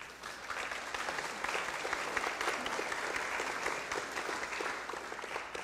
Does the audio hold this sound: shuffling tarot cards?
no